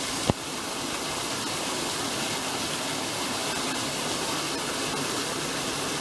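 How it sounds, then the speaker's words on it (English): A waterfall in the Grose Valley, pouring into a rocky pool of very cold water, gives a loud, steady, broadband roar that stays constant throughout, heard close up with a single brief knock near the start. "Try and get behind the waterfall."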